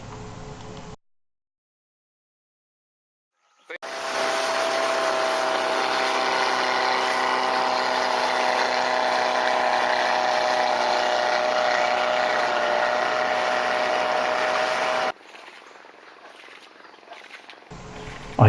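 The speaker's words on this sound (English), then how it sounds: "we chartered the hotel's boat, complete with a 4-cylinder car engine" Small river boat powered by a 4-cylinder car engine on the Mekong in Laos, a steady loud droning motor hum running for about eleven seconds after a gap of silence, then cutting off abruptly.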